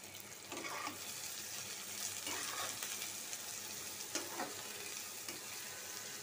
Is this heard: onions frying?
yes